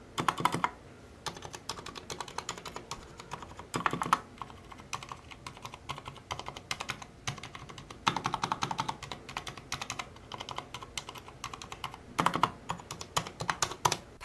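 Steady, clacky typing on a mechanical keyboard with lubricated stabilizers, close and crisp, with brief bursts of faster keystrokes and no talking.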